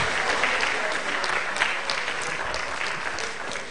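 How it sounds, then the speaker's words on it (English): Audience at an arts and book festival applauding the awardees: steady, dense clapping from a sizable crowd, evenly loud throughout with no gaps. "Can we give a very big round of applause to all our awardees?"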